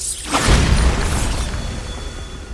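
A Bombarda spell explosion in the game Hogwarts Legacy, a single loud, close blast with a heavy low boom and crackling debris that decays over about two seconds.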